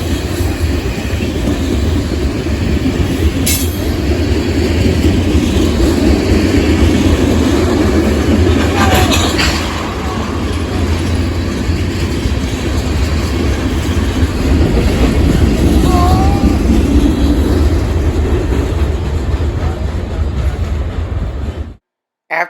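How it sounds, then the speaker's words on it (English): A Norfolk Southern mixed freight train passes close by on the Sandusky district, a loud, steady roar of rolling cars and wheel rumble lasting over twenty seconds, with faint squeals and brief horn-like tones. "Norfolk Southern did have a train to send down the Sandusky district while we were outside"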